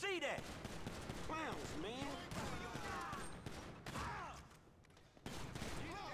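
Gunfire and a grenade blast in the video game GTA 5, during a gang fight with the Ballas: dense, loud bursts of shots and bangs run through the whole stretch, with people talking over the action.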